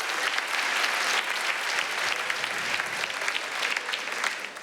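A stand-up comedy audience breaks into applause of encouragement for the comedian, a dense, steady wash of clapping that lasts the whole stretch and fades slightly at the end.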